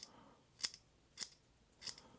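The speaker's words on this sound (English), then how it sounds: "let's start with some paracord, see how they cut" Three crisp, evenly spaced snips ring out as the scissors of a Badger Outdoors multitool cut through paracord, quiet and close with short pauses between each cut.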